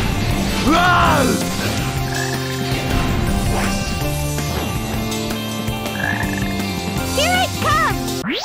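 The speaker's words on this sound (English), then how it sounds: "Hey, there's a frog over there!" Frogs croak in a Sonic Heroes jungle stage on GameCube, repeated rising-and-falling calls spread through the clip, set against steady game music and effects.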